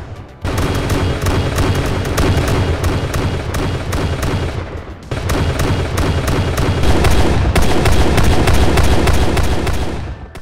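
Rapid bursts of Bradley cannon fire from a sound replacement mod in Gunner HEAT PC, a loud close run of booming shots, a short pause, then a second sustained volley.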